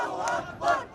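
Small crowd of protesters shouting in the streets of Ramallah, two swelling bursts of massed voices heard at moderate distance, rough and agitated, with a low crowd murmur between them.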